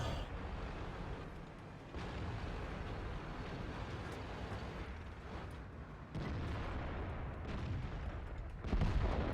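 Muffled booms from a tank gun firing in World of Tanks sit within a continuous low battle rumble, with a few sharper blasts spread through the stretch and no talk.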